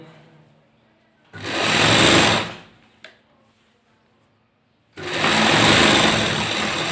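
A sewing machine stitching a pajama pocket runs in two loud, rapid bursts with a quiet pause between them. A short click falls in the gap, and the machine sounds close with no talk over it.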